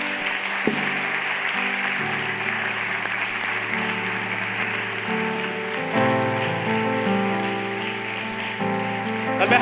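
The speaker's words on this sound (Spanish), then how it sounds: "¿Sabes por qué le damos aplausos?" Audience applause at a conference session, a steady dense clapping over sustained music chords, loud and continuous throughout with no speech.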